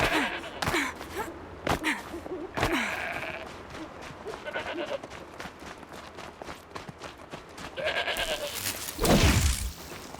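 Goats bleat repeatedly in the Horizon Zero Dawn video game, with wavering calls rising over a busy game soundscape of footsteps and rustling, and louder bursts near the end.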